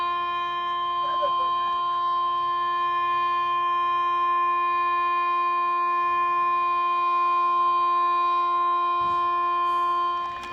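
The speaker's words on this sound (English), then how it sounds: "perhaps that's the last siren tribute for both teams there" A long, steady siren sounds as a memorial tribute at a country football ground before a Meadows versus Kangarilla match, holding one unbroken tone for about ten seconds over faint crowd murmur and voices before cutting off.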